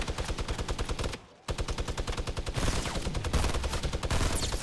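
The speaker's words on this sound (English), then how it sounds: "There's a guy underneath us somewhere with an MG." Machine gun in Fortnite Battle Royale firing rapid, steady bursts, a brief pause, then continuous loud automatic fire close by.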